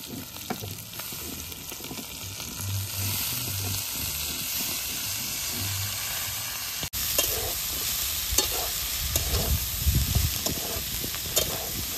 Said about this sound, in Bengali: এবারে আমি এই সজনে ফুলগুলো দিয়ে দেব। আলু আর বেগুন 3 থেকে 4 মিনিট ভালো করে ভেজে নিয়েছি।